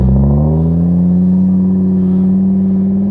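A car on a snowy road with drifts strains its engine in one loud, sustained rev that climbs slightly in pitch, close by, with no voices.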